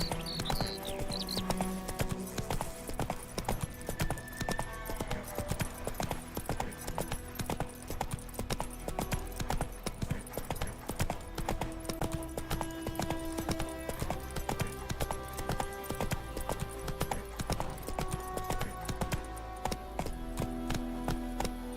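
Horse hooves galloping in The Witcher 3 video game, a steady rapid clip-clop running throughout amid game music and ambient sound, with brief voice bits.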